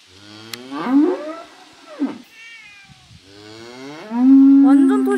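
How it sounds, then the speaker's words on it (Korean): Small calf mooing on a farm, a few drawn-out bellowing calls close by, the last one loud and sustained, with no talk over them. "저기 조그만 송아지도 있어."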